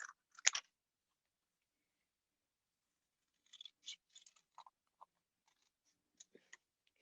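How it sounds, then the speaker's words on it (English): Scissors snip through material to cut a simple leaf shape for a recycled relief sculpture, giving a few quiet, sharp clicks at first and then scattered soft snips separated by silence. "I'm going to take some scissors and I'm going to cut a shape"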